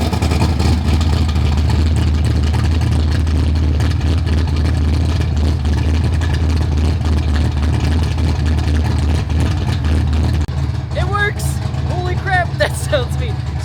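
A turbocharged Foxbody engine rumbles steadily with its electric exhaust cutout open, a loud, deep, continuous droning exhaust note close by. A voice speaks over it near the end.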